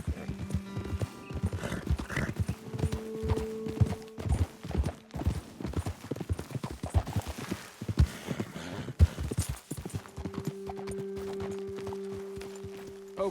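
Horse hooves clip-clop steadily on a trail in the Western game Red Dead Redemption 2, close and rhythmic, joined by a brief whinny midway and a low sustained musical drone in the background.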